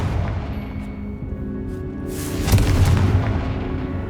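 A Confringo fire spell blasts in Hogwarts Legacy: a loud burst lands midway through, with crackling rumble that carries over a steady, humming game background.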